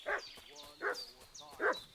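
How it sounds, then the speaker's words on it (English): A dog in Kingdom Come Deliverance 2 barks three times in an even rhythm, fussy, yipping barks at moderate distance with faint background ambience between them. "What's that dog making such a fuss about?"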